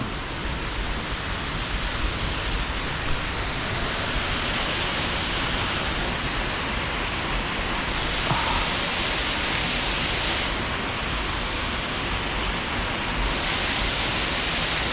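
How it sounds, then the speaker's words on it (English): A waterfall roars in a constant, broadband rush of falling water, loud and close, with no other sounds breaking through. "That's a stunning waterfall, that."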